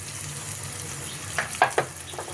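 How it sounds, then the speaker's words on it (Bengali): Spices with asafoetida and chilli powder frying in oil for biulir dal, a constant soft sizzle close by, with a few sharp clacks of a spoon against the pan near the end. "ভালো করে আমি মশলাটা কষিয়ে নেব।"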